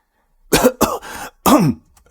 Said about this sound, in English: he choked on the water he was drinking and began coughing